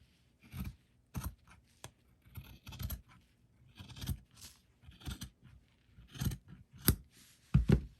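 A sock being cut down the middle with scissors to make craft gnome arms: a series of crisp snips and fabric rustles in irregular bursts, close and fairly quiet, with no talking.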